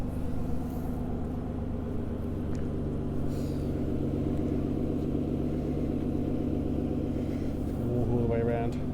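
An Aston Martin DBS V12 coupe idles with a low, steady rumble throughout, heard nearby, while someone talks over it.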